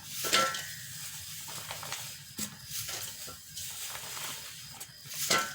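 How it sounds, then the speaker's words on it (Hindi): Raw mango pickle with lemon and chili being mixed by hand in a bowl: faint, irregular rustling and scraping with soft clicks of the ingredients, close and quiet. "तो अभी हम इसको जो है मिक्स कर देते हैं।"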